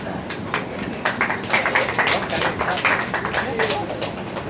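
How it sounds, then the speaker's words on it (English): An audience applauds at a Green Drinks KL evening talk on waste management, a steady crowd of many overlapping claps that swells and then continues at a moderate level. "Round of applause, please."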